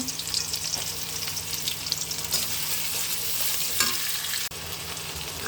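Ginger, garlic and spices frying in a pan, a dense close sizzle with occasional stirring scrapes, steady throughout and without any voices.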